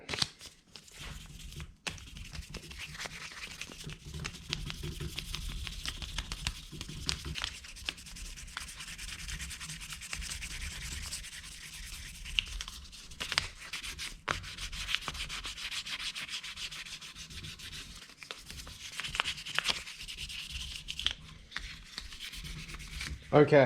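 Hand sanding a Honda Monkey motorcycle's rear shock with 1000 grit sandpaper gives a soft, continuous rubbing rasp at close range, steady strokes with brief pauses, and a short spoken word at the start.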